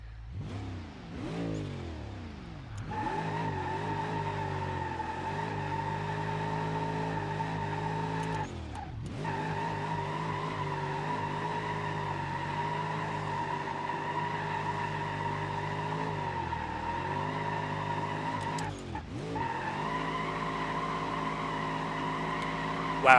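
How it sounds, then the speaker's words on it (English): A turbo V8 in a 200BX Rotsun does a third-gear burnout in BeamNG.Drive, engine held at a loud, sustained high rev with harmonic drone and tire squeal, briefly dipping and rising again between shifts. "Wow, I can do a third gear burnout"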